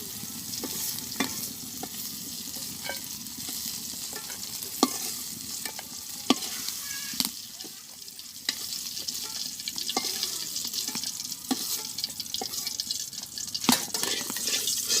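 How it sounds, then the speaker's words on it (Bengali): Shrimp frying in oil in a wok: a constant soft sizzle runs throughout, broken by sharp clinks and scrapes of stirring, close and steady, with no voices. "চিংড়ি মাছটা হালকা একটু ভাজি করে রাখবো।"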